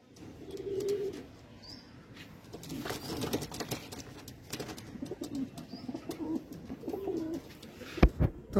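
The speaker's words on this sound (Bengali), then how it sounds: "দুটো পায়রা বাদ দিয়ে প্রত্যেক রানিং পায়রা এখানে।" Racing pigeons coo in repeated low, throaty phrases at close range, with light shuffling and pattering sounds between calls and no talking.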